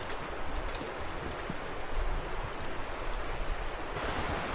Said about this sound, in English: You can feel the anticipation of a big waterfall